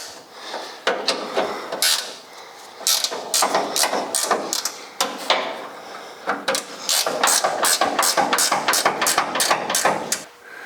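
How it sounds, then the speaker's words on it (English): A hood bumper is bolted up on a 1956 Chrysler 300 in a workshop, with a steady run of close, sharp metallic clicks and ratcheting taps, some quick and some spaced, at moderate loudness. "Let's bolt it up before we lose what we gained."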